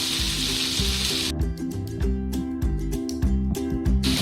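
Vegetables stir-fry in a hot pan as green chilies go in, a bright continuous sizzle followed by a run of rhythmic clattering stirs and scrapes, close and fairly loud.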